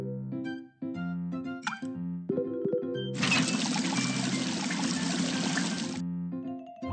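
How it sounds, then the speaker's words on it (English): Music plays, then a burst of running water from a faucet in a BabyBus children's video game pours steadily for about three seconds before the tune resumes. "Turn on the faucet."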